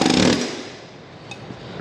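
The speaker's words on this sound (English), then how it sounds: "The air hammer is the trick on those." A loud, harsh burst of a pneumatic air hammer rattling for a moment during a John Deere 450G transmission install, then fading into a lower mechanical drone.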